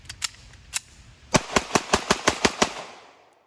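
Shots from a Norinco Model 213 Tokarev-pattern 9mm pistol: a few spaced reports, then a rapid string of about eight sharp, loud cracks in steady rhythm, fading into the outdoor background.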